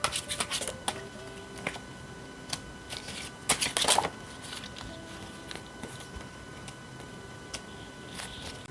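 A deck of tarot cards being shuffled up close, with soft riffling patters and sharper flicks and taps in irregular bursts, a denser flurry near the middle, and no voice over it.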